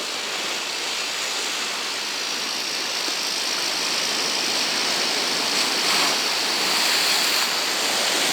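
Continuous roar of rough, stormy sea surf at Yalta, a broad rushing wash with slight swells in loudness, no voices.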